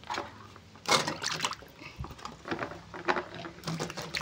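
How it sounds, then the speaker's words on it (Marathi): Kand (yam) roots washed in water by hand, with irregular close splashes, sloshes and trickles, moderately quiet. "अजून एकदा हे शेवटचं धुवून घेते, म्हणजे चांगली धुतलेत"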